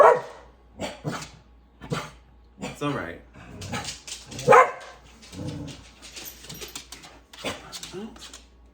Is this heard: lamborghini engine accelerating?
no